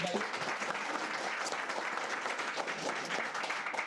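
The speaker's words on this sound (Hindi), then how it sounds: "तो बिगलाल के लिए एक बार जोरदार तालियां।" Enthusiastic audience applause for a student at a mobile repairing training institute, a dense, steady wash of clapping sustained throughout at moderate level.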